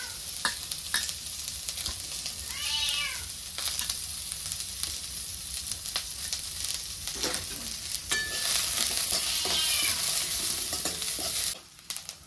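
Onion, garlic, sesame seeds and spices fry in a little oil for dry chicken, giving a steady close sizzle broken by repeated stirring scrapes and clinks throughout, with no talking.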